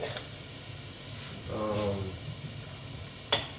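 Shrimp frying in a pan in a home kitchen, a faint, steady sizzle with a brief louder swell in the middle and a sharp click near the end.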